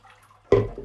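Cold water is poured over cooked, drained macaroni, giving a short, soft splash that starts abruptly and fades within a fraction of a second, faint and alone.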